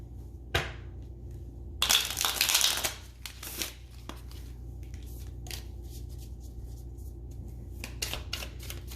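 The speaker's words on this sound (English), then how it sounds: "gonna shuffle really quick." A brief rustling burst of tarot cards being shuffled close by, followed by scattered soft card snaps and taps in a quiet room.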